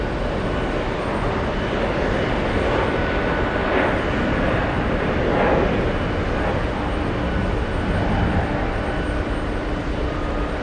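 KLM 642 Heavy, a widebody jet, takes off on runway 22 right at JFK, a loud sustained engine roar that holds steady and fills the scene without speech.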